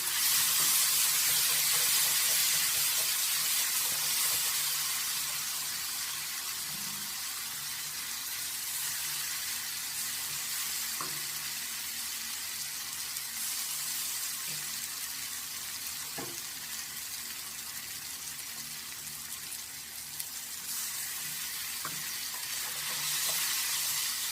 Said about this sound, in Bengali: এবার আমি যে পেস্টটা বানিয়ে রেখেছিলাম গোটা জিরে, আদা, টমেটো আর এটা আমি দিয়ে দেব